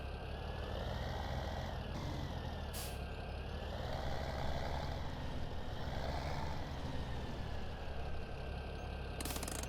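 Tractor engine in Farming Simulator 17, a machine with a grabby clutch, drones loudly and steadily throughout, with a brief hissing burst near the start and another at the very end.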